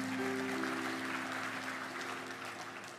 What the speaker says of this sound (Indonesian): Yang percaya kasih tepuk tangan bagi Tuhan kita.